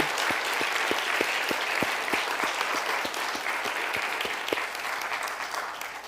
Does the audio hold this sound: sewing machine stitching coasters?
no